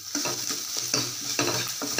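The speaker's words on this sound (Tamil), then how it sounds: "இந்த எண்ணெயிலேயே நல்லா வெங்காயத்தை பொரிச்சுக்கலாம்." Onions frying in salted oil and stirred in a pan, part of a spiced curd dish: steady close sizzling with regular scraping strokes of the spoon, no voices.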